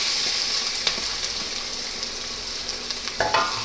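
Garlic paste, green chillies and onion fry together in oil for an onion kachori filling. A close, continuous sizzle is heard with a few sharp clicks of stirring near the end, and no one speaks.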